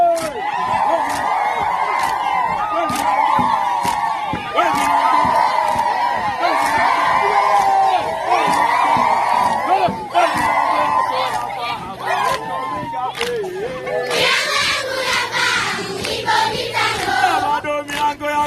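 Schoolchildren in a classroom shout and cheer loudly together during a teacher-led song about the five senses, lively overlapping voices with whoops and clapping throughout.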